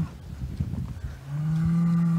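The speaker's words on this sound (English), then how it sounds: "you can see we also have bulls" Cattle on a beef farm in Wisconsin give one loud, drawn-out moo that rises out of low background noise and holds to the end.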